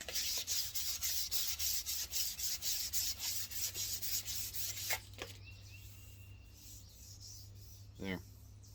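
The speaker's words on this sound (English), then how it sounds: "Now I'm going to take my 400 grit. I'm just going to make sure it's smooth." Rhythmic strokes of 400-grit sandpaper rubbing along an old hickory tool handle, steady back-and-forth scratching for about five seconds, then stopping, leaving quiet room tone with a couple of small knocks.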